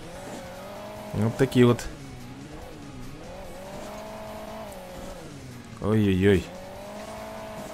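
A racing car engine in the mobile game Hill Climb Racing 2 drones steadily, its pitch rising and falling through gear changes, with a voice talking over it in short bursts.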